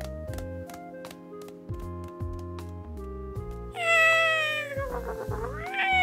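A cat in a voice drama meows loudly and drawn out near the end, following a stretch of gentle background music.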